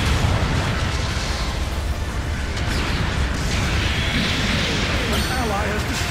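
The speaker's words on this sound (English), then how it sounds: "Long range supporting fire is a go." Long-range support fire in Gundam Battle Operation 2, with dense booming explosions and rumbling blasts layered over continuous battle noise, loud and close, while a voice speaks over it.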